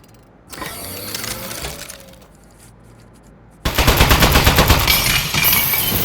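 A quieter stretch of whirring and clatter gives way to a sudden loud burst of rapid turret fire in the game Aperture Desk Job, rattling steadily in fast repeated shots to the end.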